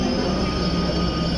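A Delhi Metro train rumbles into a station with a steady, loud, continuous roar and a faint high whine, heard up close from the platform without pauses.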